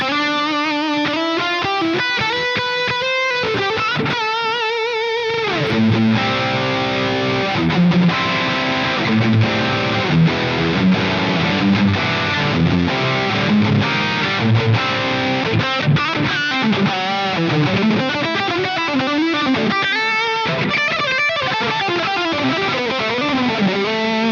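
Electric guitar through a JCM800 amp plugin with the power amp pushed hard into heavy fuzz distortion, playing sustained chords and melodic runs, thick and saturated without any talk.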